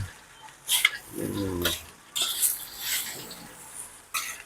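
Fried rice (sinangag) is stirred in a hot pan, a metal spatula scraping and clinking in irregular strokes over a soft sizzle, with brief muffled vocal sounds mixed in.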